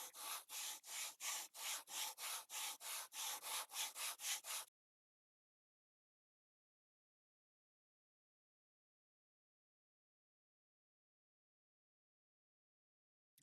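Piston rings are lapped by hand, with about a dozen even back-and-forth rubbing strokes, close and rhythmic, that stop abruptly and leave silence.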